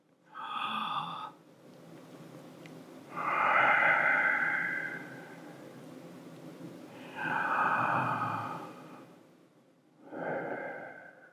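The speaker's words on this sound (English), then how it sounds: "And then you listen to the breath." Slow, deliberate breaths drawn in and let out through the nose during meditation, three long hissing inhales spaced a few seconds apart, close and quiet with soft pauses between.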